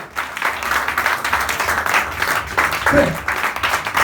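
A church congregation breaks into sustained applause and cheering during a French-language worship service, a steady dense crowd clapping with voices mixed in, moderately loud throughout.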